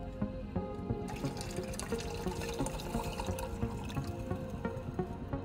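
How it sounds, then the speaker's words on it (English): Water pours into a jar set on a campfire outdoors, a continuous close splashing and gurgling stream with bubbly filling tones that brighten after the first second and keep a steady, fairly loud level to the end, with no talking. "We put the jar on the fire and pour water."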